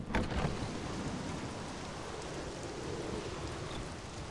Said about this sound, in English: Fuck this rain, man. Tired of the rain.